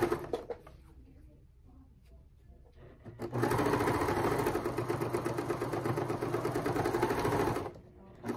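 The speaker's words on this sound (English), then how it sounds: "I'm going to sew right across the top, just a very narrow seam allowance." A domestic sewing machine runs steadily for several seconds, stitching a narrow seam across the top of a quilted Christmas stocking made from a vintage quilt, preceded by quiet handling and ending abruptly.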